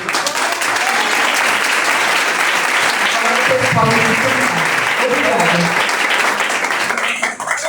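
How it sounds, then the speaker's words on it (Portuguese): Audience applause at a church conference, loud sustained clapping from a crowd filling the space, with a voice speaking briefly over it. "Eu quero que vocês aplaudam cada um."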